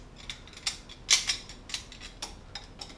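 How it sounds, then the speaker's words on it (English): Vice grips clamp down on an aluminium outboard lower unit housing, giving a series of sharp metallic clicks and creaks in an uneven rhythm, close up and alone. "I had to fiddle around with it a bit and actually use my vice grips"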